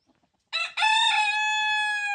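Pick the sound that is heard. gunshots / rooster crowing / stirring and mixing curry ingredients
rooster crowing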